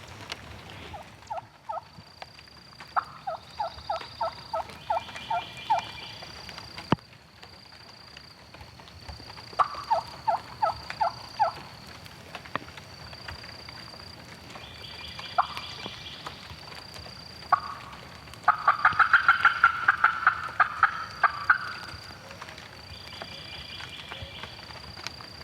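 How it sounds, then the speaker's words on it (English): A wild turkey gobbler gobbles about a mile away in spring woods, several faint rattling bursts spaced across a quiet outdoor background with a steady high hiss of insects or birds and no talking. "One gobbler. He's gobbled 3 times"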